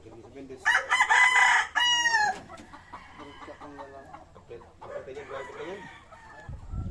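Rooster crowing loud and close at a large gamecock farm, one long harmonic crow followed by a second shorter one, then quieter farmyard sounds with people talking faintly in the background.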